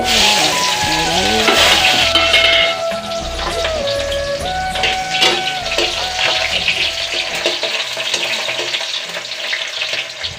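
Oil sizzles loudly in a frying pan during home cooking, a continuous crackling hiss with occasional stirring sounds, close and steady, with music or tones faintly underneath.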